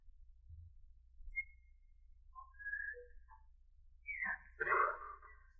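A person whistling in a radio drama, thin, faint, scattered tones that turn into a louder breathy attempt near the end, over a low steady hum.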